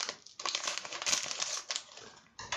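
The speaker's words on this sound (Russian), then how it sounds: "второй пакет открываем" Quiet, continuous crinkling and rustling of a plastic packet of washing machine descaling powder being opened and handled, with irregular crackles and a brief pause near the end.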